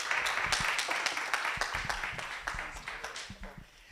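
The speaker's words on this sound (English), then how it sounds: "A round of applause for Prof." A conference audience applauds a professor coming up to speak, moderately distant clapping with distinct individual claps that fades toward the end.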